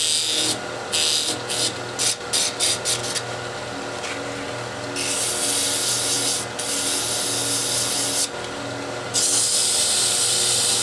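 Sanding a wooden chess piece, probably on a lathe, with a loud continuous abrasive rubbing that comes in short choppy bursts and then long sustained passes, close up and with no talking.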